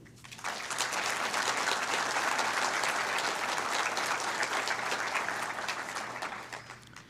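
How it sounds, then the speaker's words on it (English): A conference audience at a college student ambassador event applauds in a sustained, dense round of clapping that swells quickly and holds steady for several seconds before tapering off. "Please join me in giving Baird Public Finance a heartfelt round of applause for all they do."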